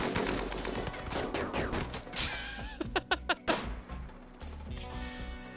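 Shotgun and heavy SMG fire crackles through a raid battle in RimWorld, with dense overlapping reports and a few sharper isolated blasts near the middle.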